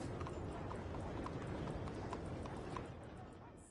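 A horse's hooves clip-clop at a steady trotting pace on a road in Red Dead Redemption II, a dense rhythmic patter under a constant rumbling game ambience, fading slightly toward the end.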